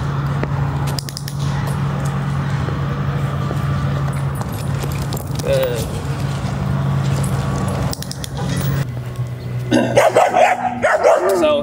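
Two golden retriever puppies bark and yip outdoors, a run of sharp close barks with a jingle of tags or keys, over steady background noise.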